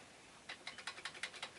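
Keys tapped one at a time on a Commodore 64 keyboard under test for dirty contacts, about seven crisp, evenly spaced clicks close up in a quiet room.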